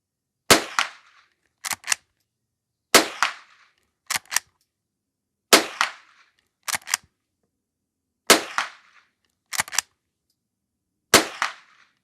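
Henry H001 lever-action .22 rifle firing bulk ammunition at a range: ten sharp, close cracks in pairs, each pair a loud shot followed about a second later by another, with silence between.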